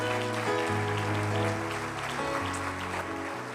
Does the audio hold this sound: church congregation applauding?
yes